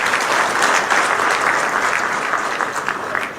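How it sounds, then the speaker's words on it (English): Audience applause at a county investment event in Murang'a, Kenya, a steady, dense wash of clapping from a large crowd that fills the whole stretch without pause. "can you clap for Equity Bank?"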